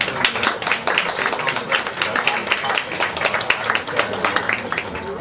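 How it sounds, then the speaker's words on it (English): A crowd applauds steadily at a medical symposium, dense clapping filling the whole stretch at moderate loudness with no clear pauses. "Let's give him a round of applause."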